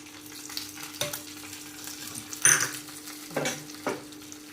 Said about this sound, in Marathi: आता ही फोडणी केली